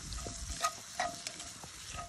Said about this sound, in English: I'm starting with some onions and peppers.